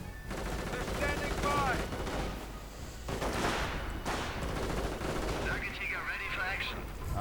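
Steady .30 caliber machine gun fire and other gunshots in a Company of Heroes battle, continuous rattling bursts with brief louder blasts, heard over battlefield noise.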